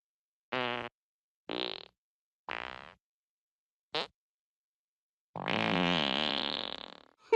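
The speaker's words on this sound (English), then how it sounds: "Would you stop farting" Cartoon farts in a Family Guy scene: four short, separate blasts followed by one long, drawn-out rasping fart and a squeak at the end, loud and alone with no talk.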